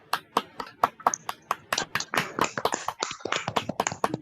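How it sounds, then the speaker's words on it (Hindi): Participants in an online graduation ceremony clap, individual sharp claps starting sparse and growing denser and more overlapping, moderately close with slightly uneven rhythm. "तालियों की गड़गड़ाहट में कमी नहीं होनी चाहिए, सब अपने अपने हिस्से की तालियां बजा सकते हैं।"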